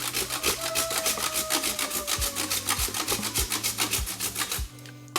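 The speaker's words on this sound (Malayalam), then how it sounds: "അതിൻ്റെ ഇങ്ങനെ ഒന്ന് ഉരച്ചു കൊടുക്കാം." Polishing compound is rubbed by hand onto a Royal Enfield motorcycle engine casing in quick, regular back-and-forth strokes, each a close, scratchy swish, repeating evenly for several seconds before stopping.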